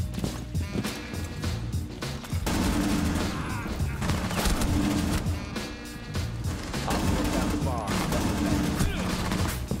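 Rapid gunfire bursts in Rainbow Six Siege gameplay, loud and dense with overlapping shots and clatter running through the whole stretch, fuller after the first couple of seconds, with players' voices mixed in.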